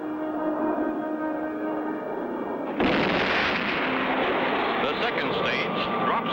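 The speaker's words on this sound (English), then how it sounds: "the third stage rockets light up" A cartoon rocket's third stage ignites with a sudden loud broadband roar that cuts in abruptly over earlier music and continues as a steady rushing blast.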